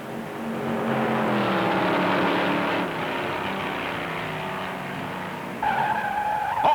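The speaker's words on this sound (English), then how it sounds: "Don Kibberling in number 60 smashes a guardrail and spins off the high bank first turn." A 1958 stock car, number 60, in the Southern 500 race smashes a guardrail and spins off the high-banked first turn. Tires screech in a long, loud skid under engine roar, and a higher whine rises near the end.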